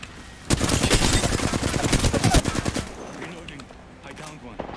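Rapid automatic gunfire bursts from the video game Apex Legends, loud and dense for a couple of seconds, then tapering into scattered shots and game noise.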